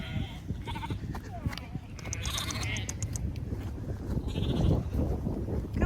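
Sheep and lambs bleat repeatedly in a farm shed pen, several overlapping calls near and loud over steady barn noise and shuffling.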